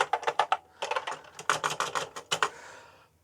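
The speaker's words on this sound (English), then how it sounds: "A clacky keyboard." Clacky keys tapped on a Commodore VIC 20 keyboard with a smashed case and some stuck keys, a quick burst of close, sharp clicks followed by a short pause and then a steadier run of typing.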